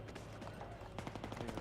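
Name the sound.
enemy machine gun fire in video game Battlefield 3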